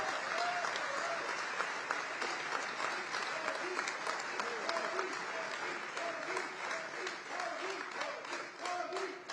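Sustained applause from a large audience welcoming Prime Minister Modi at a programme at the John F. Kennedy Center in Washington, DC, loud and steady throughout, with a few faint voices mixed into the clapping.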